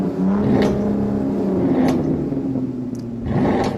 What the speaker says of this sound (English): Listen to the rumble of that roaring engines.